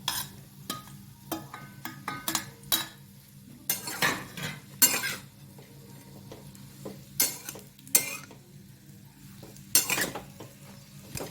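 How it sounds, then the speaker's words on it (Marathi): Chopped alu vadi pieces shallow-frying in hot oil in a kadai, with a faint sizzle beneath intermittent sharp scrapes and knocks of a spatula turning them. "या कढईमध्ये तेल टाकले, तेल गरम झाले आणि त्यामध्ये आता या चिरलेल्या वड्या टाकणार आहे आणि चांगले 5 मिनिटं परतून घेणार आहे"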